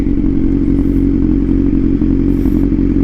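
A Kawasaki Z900 motorcycle running steadily close by, its exhaust giving a loud, deep, continuous rumble with a faint mechanical clatter and no change in pitch.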